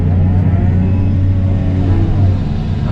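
A 14,000-pound skid steer works at a golf course pond being dredged, its engine holding a loud, steady, deep drone throughout with no speech.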